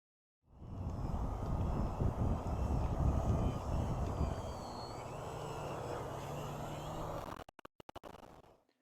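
A Precision Aerobatics Katana 60 model airplane roars past low and close, its engine drone rising and holding steady before fading, ending with a few scraping knocks.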